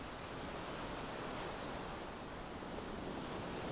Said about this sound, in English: The waves are washing in, gently washing over the beach, and then flowing back out again.